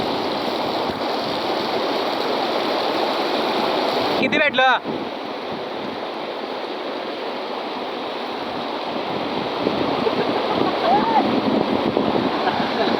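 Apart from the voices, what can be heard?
waterfall and stream water flowing by a river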